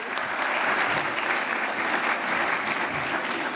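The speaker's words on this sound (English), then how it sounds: "can I ask for another round of applause for Dr. Archita?" A healthcare conference audience claps steadily for a speaker, a dense, even round of applause filling the room at full volume with no pauses.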